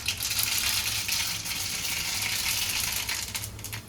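Mustard seeds crackle and pop in hot oil in a pan, a dense continuous sizzling with scattered sharp pops throughout, close and steady, while making batata poha.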